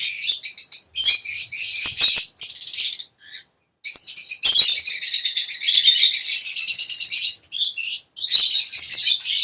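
Lovebirds in a breeding setup chirp loudly and nearly nonstop, a dense, close chorus of high tweets broken by a few brief pauses.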